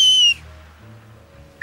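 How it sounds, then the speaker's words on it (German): A cartoon character whistles for help in two shrill bursts, one long tone at the start and another rising whistle at the end, loud and alone with a quiet gap between. "Ich pfeife jedenfalls weiter und wenn es sein muss, auch aus dem letzten Loch."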